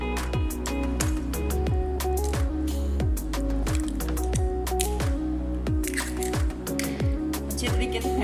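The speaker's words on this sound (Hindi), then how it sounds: "अब अंडे को तोड़ लेंगे।" Eggs cracked and beaten in a bowl for a chicken potato kebab, with quick regular wet whisking strokes repeating close up and fairly loud.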